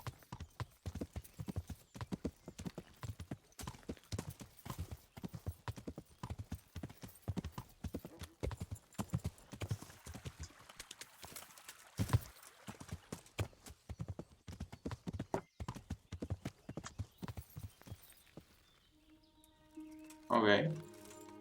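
Horse hooves clip-clop steadily at a walking pace in the Kingdom Come Deliverance video game, fairly close and rhythmic, with a short burst of other game sound near the end.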